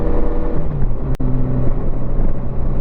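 A 1987 Honda GL1200 Goldwing motorcycle running after carburetor repairs, accelerating on an open country road between fields; its engine drones loud and steady over heavy wind rumble, rising in pitch as it speeds up.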